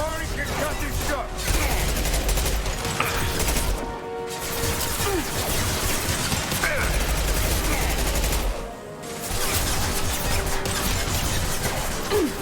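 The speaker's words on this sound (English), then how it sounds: "Firing an impact gun. Firing concussive shot." Heavy concussive blasts from an impact gun in Mass Effect 2 land amid sustained combat noise, with crashes and rapid weapon fire filling the scene and brief lulls between volleys.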